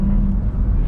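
A Porsche Taycan Turbo Cross Turismo on the Nürburgring gives a brief, loud, low electric-drive hum with a steady tonal whine as it shifts up into second gear, captured from close inside the car.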